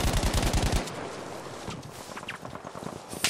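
Rapid machine-gun bursts rattle loudly in Battlefield V, then thin into scattered shots and battlefield noise with a sudden crack at the end.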